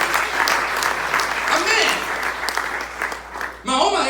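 Applause in a church after a preacher calls for a loud hand for God, a dense wash of clapping filling the room, with crowd voices mixed in and a brief louder burst at the end.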